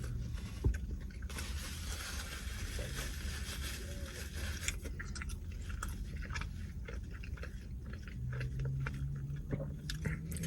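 Someone close to the mic eating carne asada quesadillas, with soft biting and chewing, moist crunchy bites and mouth sounds in an irregular rhythm against faint background noise.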